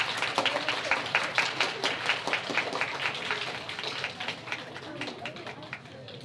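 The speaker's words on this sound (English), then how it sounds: "Let's give them a round of applause." An audience at a fourth-grade trimester awards ceremony applauds the award-winning students with dense, steady clapping from many hands. It stays loud and fairly close throughout, then tapers slightly toward the end.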